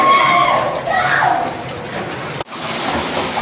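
Fresh water flows through Hezekiah's ancient rock-cut tunnel in Jerusalem, making a steady, loud rushing and splashing that echoes in the enclosed space and carries on without a break.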